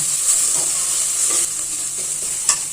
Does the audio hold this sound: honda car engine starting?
no